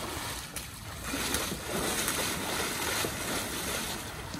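A mustang mare wades through a trail stream, her legs churning and splashing the water steadily and close by, a continuous rushing, sloshing sound with no voices.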